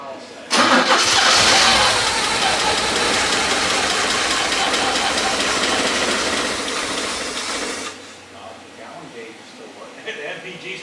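Porsche 944 engine cranking briefly and then starting, running loud and rough for several seconds before dropping to a quieter idle, with a voice speaking over the running engine.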